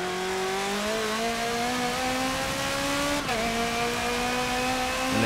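A Porsche race car engine in Forza Motorsport 7 drones steadily and loud, its pitch climbing through the gears with one shift break midway, no talking over it.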